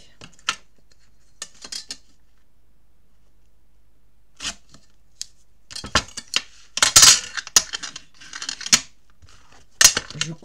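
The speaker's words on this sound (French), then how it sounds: "Je coupe l'excédent." Scissors trim excess material from a handmade scrapbook album cover, giving scattered crisp snips, faint at first and then clustered into quicker bursts of close cutting with small rustles between.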